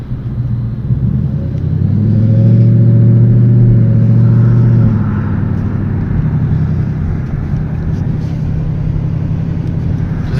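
From inside a moving car, the engine note swells as it accelerates for a few seconds, then settles back into a steady low rumble of road and cabin noise.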